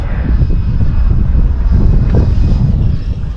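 A Freewing Vulcan RC model jet flies low and slow with flaps down, giving a loud, close, continuous ducted-fan roar with heavy rumbling wind buffeting throughout.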